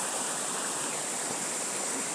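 Water rushing steadily into an irrigation channel below a village dam, a constant broadband flow like a small stream, close and continuous with no talk.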